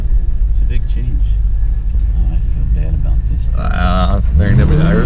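A 1985 Monte Carlo with a freshly upgraded distributor rumbles steadily, loud and close, as the car drives, the engine note rising into a brief rev near the end while people talk over it.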